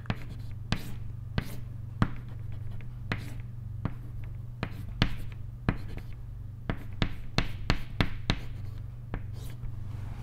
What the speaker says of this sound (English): let me write